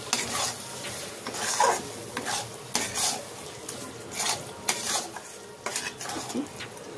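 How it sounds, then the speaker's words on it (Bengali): Fish jhuri with garam masala stirred in a pan, heard as loud, close sizzling frying under repeated scraping spatula strokes that come in irregular bursts, with no voices. "আবারও ভালো করে নাড়াচাড়া করে গরম মশলাটা মিশিয়ে নিচ্ছি"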